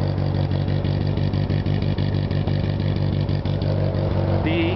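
A 1965 Volvo running a B20 engine with a street performance cam idles roughly and loudly, a steady uneven lumpy rumble with rapid pulses throughout and a brief higher tone at the end.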